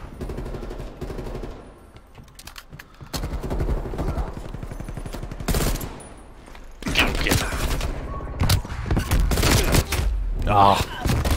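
Rapid video game gunfire in close, dense bursts of automatic shots with thuds, heard under and between people talking.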